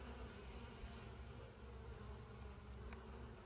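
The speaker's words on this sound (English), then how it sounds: "more bees to protect the hive" Honey bees buzz around an open hive during an inspection, a soft, continuous, dense hum with no voices.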